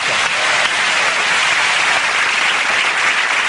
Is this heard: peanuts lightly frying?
no